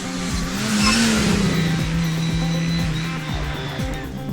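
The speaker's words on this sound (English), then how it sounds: "You can really hear that dump valve working as Bill comes on and off the throttle through Kerber's tighter sections" A Mini Extreme with 159 bhp and 165 lb-ft of torque revs hard along a tarmac stage as the driver works on and off the throttle, the steady loud engine note punctuated by the airy hiss of the dump valve venting.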